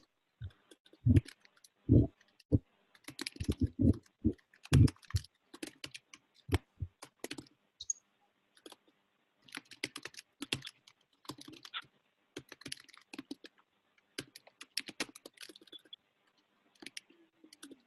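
Someone typing on a computer keyboard during a group call, with quick bursts of close, distinct key clicks and a few heavier taps, spread through irregular pauses and no voices.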